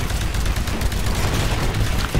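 Dense, sustained gunfire from the video game Titanfall on Xbox One, a loud continuous barrage of shots and booms with no pauses and no voices.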